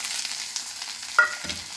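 Curry leaves and chilies sizzle and spatter in hot oil in a pan for a nepa-style Karnataka chutney, a steady close frying hiss with a sharp pop partway through and a brief stir near the end.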